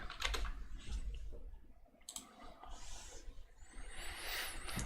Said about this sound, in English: you can go ahead and test your keyboard layout in here